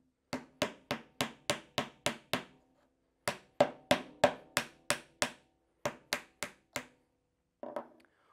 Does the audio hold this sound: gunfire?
no